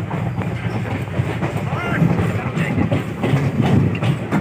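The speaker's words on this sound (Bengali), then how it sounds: "তবে বর্তমান ট্রেনটা তার সময়ের সাথে তাল মিলিয়ে অবিরাম উত্তরের দিকে উড়িষ্যার ভুবনেশ্বর রেল স্টেশনের দিকে ছুটতেছে।" A passenger train on the Secunderabad to Cooch Behar route heading toward Bhubaneswar, heard from inside as a steady rumbling roll with faint rail clatter and squeals, with voices in the carriage over it.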